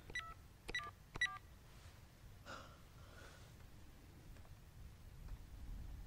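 Telephone number dialed in the Beyond: Two Souls video game, three quick electronic keypad beeps in a short burst, then faint breathing and quiet movement in a hushed room.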